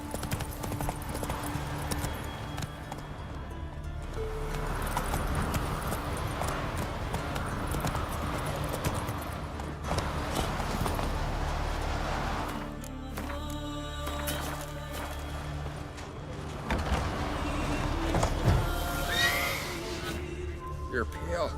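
Geralt's horse Roach from the game Witcher 3: Wild Hunt trots with a steady, close clip-clop of hooves, with an occasional neigh, over ambient game sound and brief voices.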